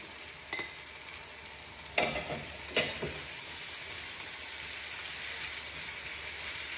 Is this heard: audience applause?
no